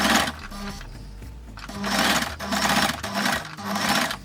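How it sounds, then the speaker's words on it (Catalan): A sewing machine stitches fabric for a bucket hat in several loud, rapid bursts of whirring needle strokes, separated by brief pauses. "passeu la màquina de cosir"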